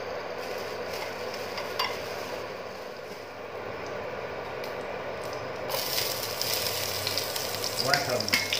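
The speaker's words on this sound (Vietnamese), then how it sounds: "mình sẽ chiên cá trước" Fish frying in hot cooking oil for a homestyle family dish, a steady close sizzle and crackle throughout that grows brighter and louder near the end, with faint clinks of a pan or utensil.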